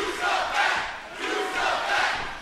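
A wrestling arena audience in the Impact Zone shouts and roars in loud, swelling waves, rising and falling twice across a couple of seconds.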